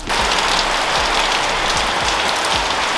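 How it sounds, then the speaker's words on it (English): Heavy rain pours down steadily, a dense, loud, unbroken hiss of drops hitting surfaces close by, with no letup across the whole stretch. "maybe you could see more of the rain. I mean, it is, we are getting absolutely just dumped on."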